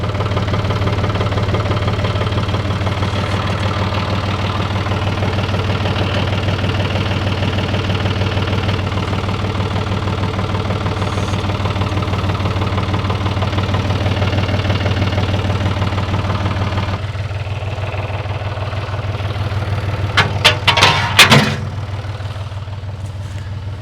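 A tractor engine idles steadily with a deep, constant rumble close by, and near the end a few sharp metallic clanks ring out over it.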